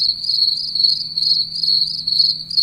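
Crickets chirping sound effect played from a Windows Phone 8 app, a steady, continuous trill, bright and close, with a faint low hum underneath.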